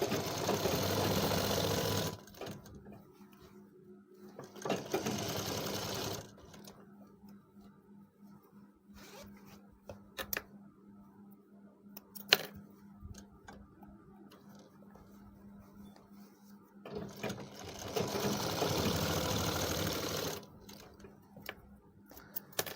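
An electric sewing machine stitches along the fly zipper of a pair of trousers, running loudly in two bursts at the start and near the end, with quieter handling and clicks between the runs.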